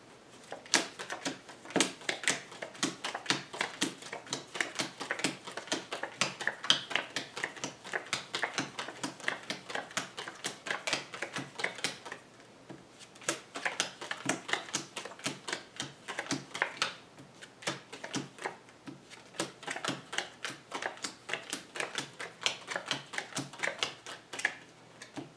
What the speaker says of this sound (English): I'm going to shuffle the cards 3 times